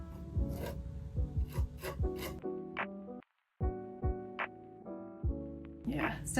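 A sandy texture medium being spread and worked onto a canvas, giving short scratchy rasping strokes in uneven bursts with a brief pause, close up, while a person talks over it.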